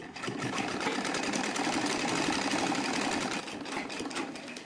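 A sewing machine runs continuously for several seconds, stitching along a folded edge of heavy silk saree fabric with a dense, rapid mechanical chatter close up and no talking.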